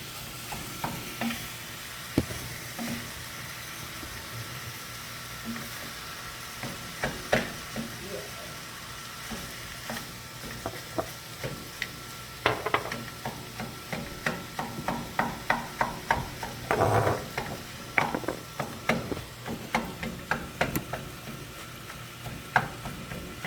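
Ground meat fries in a pan under a constant sizzle while a utensil scrapes and knocks against the pan in irregular clusters, close by, with occasional faint voices.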